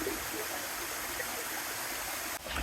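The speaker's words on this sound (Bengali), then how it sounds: "ঝর্ণা যেটা মেন ঝর্ণা এই ট্রেলের" Low-water stream at Napittachora waterfall on a forest trail, a soft steady rush and trickle of flowing water, faint and continuous without talk, briefly dipping near the end.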